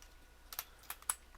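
Typing on a computer keyboard during digital art work: a few scattered, crisp keystrokes, close and fairly quiet, with long gaps between presses and no talking.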